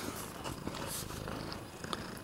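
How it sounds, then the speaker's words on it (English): An elderly cat, about 14 or 15 years old, living in a trailer park, purrs steadily and softly right by the microphone, a continuous rumbling with no talk. "It's one of the oldest cats that I know that still live in the trailer park."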